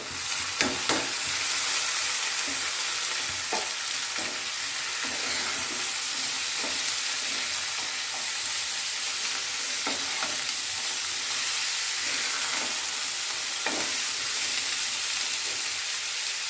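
Chopped potatoes and onions fry in a pan, a loud, steady hissing sizzle with soft stirring taps at irregular intervals throughout.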